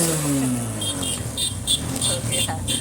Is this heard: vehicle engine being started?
yes